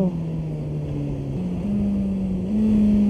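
A Suzuki GSX-S1000 engine accelerating on the road in Réunion, a steady droning tone that climbs in pitch in distinct steps as gears change, loud under wind noise.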